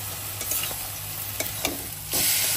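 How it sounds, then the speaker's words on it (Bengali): Marinated chicken and onions stirred in a pan for an oil-free chicken curry, a spoon scraping and clacking in irregular strokes over a steady low sizzle, with the sizzle growing louder near the end. "চিকেনটাকে ভালো করে পেঁয়াজের সাথে নাড়িয়ে মিক্স আপ করে নিতে হবে"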